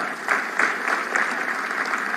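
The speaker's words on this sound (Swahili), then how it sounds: "tuwapigie makofi tena" Sustained crowd applause fills a national stadium during a presidential Jamhuri Day celebration, a steady dense clatter of many hands with slight swells, distant and reverberant.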